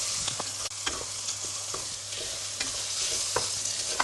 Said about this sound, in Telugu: దీన్ని మనం స్లైడ్గా ఫ్రై చేసుకుందాం.